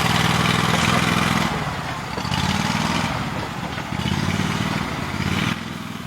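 The lawn-tractor-type engine of a Max II six-wheel amphibious ATV runs steadily nearby, rising and falling in pitch as the throttle changes, loud and continuous with a rough mechanical buzz.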